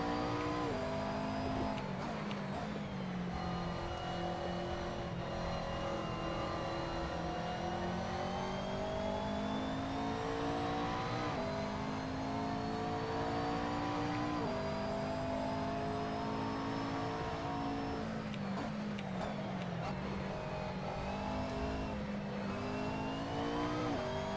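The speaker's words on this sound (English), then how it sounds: "how I have missed the roar of this car around Watkins Glen" A GT3 race car engine roars continuously around Watkins Glen in a racing sim, its pitch climbing through gears, dipping on shifts and rising again, loud and close throughout with no talk.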